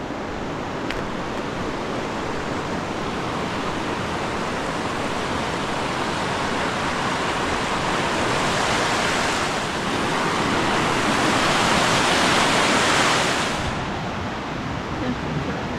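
Forney Creek rushing beneath a trail bridge on a mountain hiking route, a steady, broadband roar of flowing water that swells slightly toward the end and continues alone without talk.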